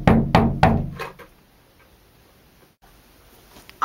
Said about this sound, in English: Then I heard a knock at the door.